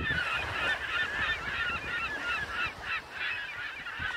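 A chorus of seagulls resting on a beach at a fishing village in Baja California, Mexico, calling continuously, with overlapping harsh, nasal cries close by.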